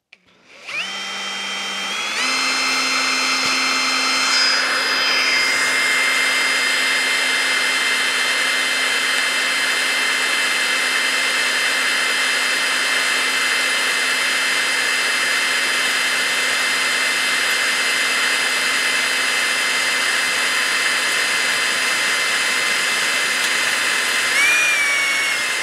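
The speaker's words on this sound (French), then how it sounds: "Vous voyez, là aussi, un perçage sans trop de difficulté" A Ryobi RDD18C drill-driver bores through metal with a 5 mm bit lubricated with cutting oil, spinning up to a loud steady high-pitched whine that holds for over twenty seconds before a brief pitch shift at the end.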